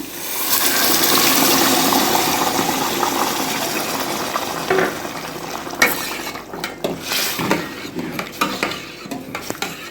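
Rice poured and stirred into a pot during home cooking of a traditional Egyptian lunch, a steady close grainy rush and scraping that fades into scattered clinks and light stirring knocks, with no talk.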